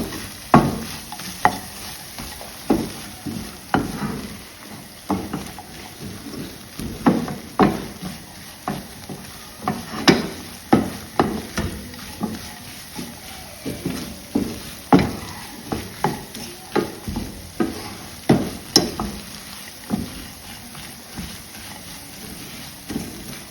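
Grated coconut caramelizing in a pan for toffee, a spoon scraping and stirring in a steady rhythm of close, dry scrapes over a soft sizzle, with no talking.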